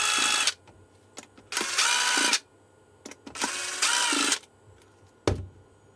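Power screwdriver backing screws out of a Viking 24v 4.4Ah battery pack casing, several short loud whirring bursts separated by quiet pauses, close up with no talk.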